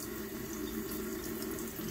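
Warm tap water pours steadily over a tradescantia plant cutting at a sink, a continuous close splashing rush with no talk.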